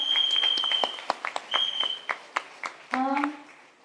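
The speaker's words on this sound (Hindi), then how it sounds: "तो एक बार चाहूंगी जोरदार उनके लिए भी तालियां" A small group applauding two crown directors at a leading-ladies team event, scattered uneven claps with whistles and brief voices over them, fading toward the end.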